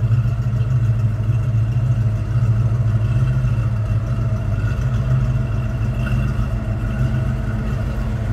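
A 1989 Ford Mustang GT convertible's 5.0 V8, backed by a 5-speed manual, idles with a steady, close, low rumble and slight clatter, holding an even level throughout with no talking.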